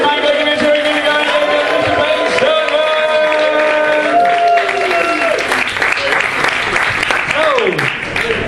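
A stand-up comedy audience cheers and applauds loudly and continuously for the whole stretch, a dense wash of clapping and whooping with voices shouting through it.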